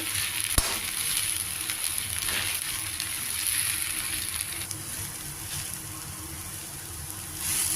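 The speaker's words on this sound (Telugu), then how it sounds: "గోంగూర బాగా వేగింది ఇందులో చింతపండు కూడా వేసి వేయించాం" Gongura leaves with tamarind frying in a pan, a steady, close sizzle with soft stirring scrapes throughout and no talking.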